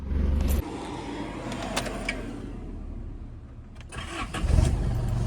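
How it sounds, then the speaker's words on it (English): A diesel car engine cranks and catches, settling into a steady idle, then revs up again near the end, loud and close with no talk. "I don't want to turn it off and start it again because I feel like it's not going to start."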